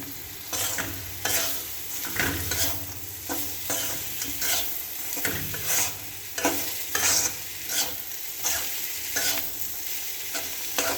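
Vegetables stir-frying in a pan for a red leafy greens and potato bhaji, a steady sizzle with repeated scraping and stirring strokes at a regular rhythm, close and clear with no talk.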